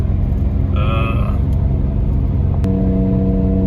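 Ford F350 pickup truck on a long, constant uphill climb, its steady low engine rumble droning from inside the cab throughout, with a couple of brief tonal chimes over it.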